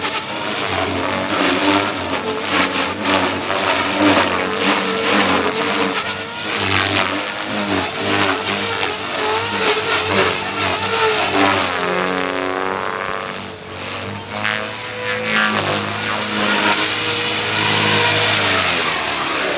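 A Blade Fusion 360 RC helicopter flies at high head speed, giving a loud continuous whine with shifting pitch as the rotor speed rises and falls, close and dominant throughout.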